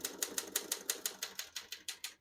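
A 1940 Royal KMM desktop typewriter typing at close range: about fourteen crisp, evenly spaced keystrokes in a steady rhythm, with no talking.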